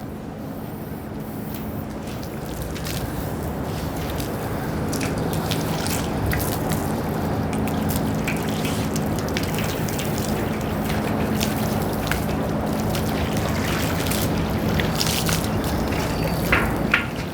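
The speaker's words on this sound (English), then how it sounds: "we're going to turn on the water hose" A water hose sprays onto a hot metal drum to cool it in a chemistry demonstration, a steady, broad rushing hiss that swells slightly and holds for many seconds.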